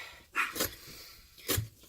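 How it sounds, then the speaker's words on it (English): A dog barks and whines indoors in two short loud bursts, the first around a third of a second in and the second near the end, with quieter whimpering noise between them. "I want to apologize again on behalf of my loud-ass dog."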